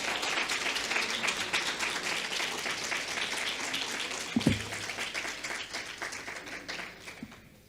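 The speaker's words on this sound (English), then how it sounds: "He's deserving of another round of applause." An audience at the JTA Roll of Honour 2021 ceremony gives a sustained round of applause, dense and fairly distant, with a brief thump midway before the clapping fades out.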